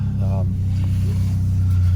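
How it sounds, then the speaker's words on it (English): A cold 1994 Saturn SL2 Twin Cam idles or cruises with a holed exhaust, giving a steady low droning rumble throughout, heard from inside the car. "So you can hear the exhaust. It does have a hole in it or something."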